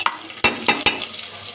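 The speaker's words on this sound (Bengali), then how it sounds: "এখন মাংসটা দিয়ে দিব" Chicken pieces going into fried onion in a pressure cooker, with three sharp clattering stir or drop hits over a brief burst of sizzling, close by and fairly loud, with no voices.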